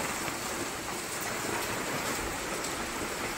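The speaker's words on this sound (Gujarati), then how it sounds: "પાછળ પણ બહુ જોરવા વરસાદ પડતો છે" Heavy rain falls outside as a continuous broadband hiss, dense and even throughout, with no talking.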